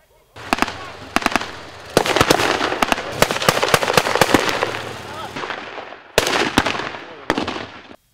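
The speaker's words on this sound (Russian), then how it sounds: "Запах пороха, звуки выстрелов и разрывы снарядов, будто ожившая картина из прошлого." Rapid, loud bursts of blank-cartridge gunfire and shell blasts at a military-historical reenactment, sharp cracks tumbling in irregular clusters with short lulls between volleys.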